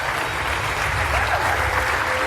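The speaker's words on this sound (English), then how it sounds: "Can we just give them some good round of applause?" Steady, dense applause from a conference audience at a Bitcoin gathering in Kenya, sustained and fairly close across the whole stretch with no pauses.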